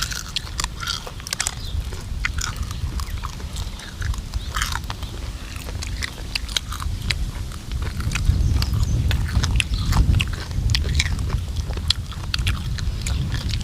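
Crisp, crackling bites and steady chewing of crispy fried pork belly, close and loud, with repeated crunchy snaps over a constant faint background hiss and no talking.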